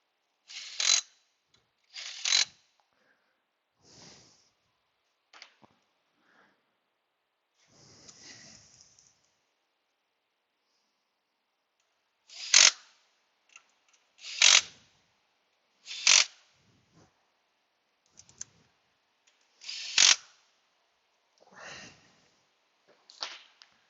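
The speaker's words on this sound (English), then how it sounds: "Now let's tighten up all of our brackets, bolts, 12s, and get that completed." Ratchet clicking in short bursts while tightening brackets and 12 mm bolts on a 2005 Kia Sedona 3.5 engine, close and fairly quiet, with pauses between the runs of rapid pawl clicks; no talking.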